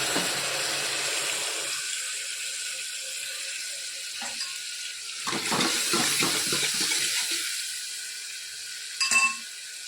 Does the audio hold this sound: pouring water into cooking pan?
yes